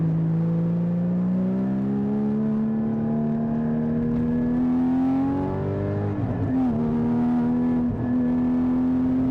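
Porsche 981 Cayman GT4 engine holding a steady, loud drone that climbs gradually, then blips sharply as it rev-matches on downshifts near the end, heard from inside the car with no talking.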